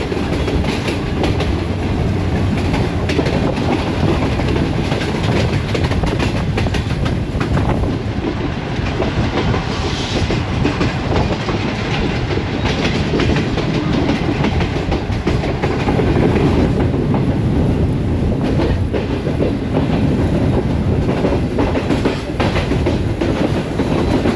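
The Shalimar Express rolls between Lahore and Khanewal at about 80-85 km/h, with a steady, loud rumble and rhythmic clickety-clack of the wheels throughout and no talking.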